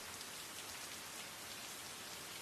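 Steady rain falling in a film scene, a dense continuous patter of raindrops at an even level with no voices, with drops from an umbrella dripping onto a carpet.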